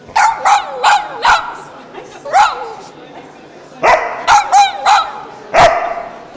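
Several dogs at a film premiere bark loudly and close, sharp yaps coming in quick clusters with short pauses between bursts.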